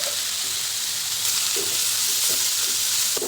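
Cooked safflower greens tipped into a pan of fried chilies, giving a steady close sizzle and hiss of frying with a few soft stirring scrapes and no talk.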